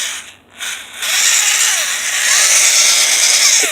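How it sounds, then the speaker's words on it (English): A power polisher works on a car wheel rim with a loud, steady high-pitched whir, briefly dipping near the start before holding a constant close drone. "Get the polishing."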